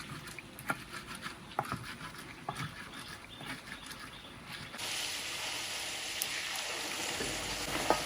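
Meat fries in oil in a pot over a clay stove outdoors, with a few sharp clinks and taps before a steady loud sizzle swells up and continues to the end.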